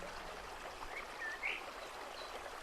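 Steady, soft rushing of a river stream flowing over stones and pieces of wood, a continuous gentle wash with a few faint bird chirps above it.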